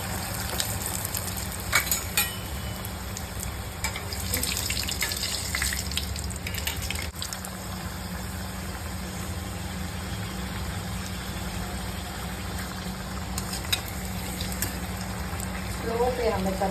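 Spring rolls frying in hot oil in a home kitchen, a continuous close sizzle and hiss running steadily throughout, with someone talking intermittently over it.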